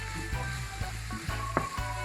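Butter beans hitting a hot pan for Jamaican-style butter bean and saltfish, a steady close sizzle broken by several soft knocks and clatters as they go in and are stirred.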